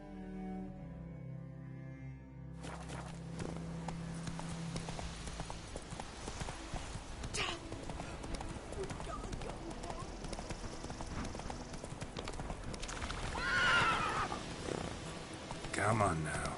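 Roach the horse from The Witcher 3 gallops with steady clip-clop hoofbeats over game music, continuing throughout with a louder stretch near the end.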